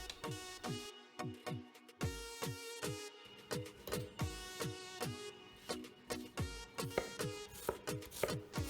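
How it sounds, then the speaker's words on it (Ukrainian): A knife chops onion and tomato on a cutting board in a quick, steady run of sharp knocks, loud and close, with a brief pause near the two-second mark before the rhythm resumes. "Нарізаємо цибульку, помідорку."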